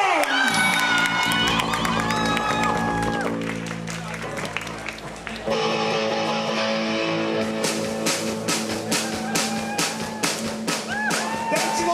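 Audience cheering, whooping and applauding the band at a concert, a lively crowd swelling with shouts and clapping alongside ringing music, loud and sustained throughout.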